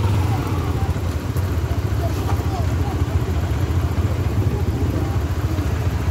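A Hero Xpulse 200 motorcycle engine rumbles steadily and close while crossing a river, with continuous low engine noise mixed with water splashing and a dense broadband wash.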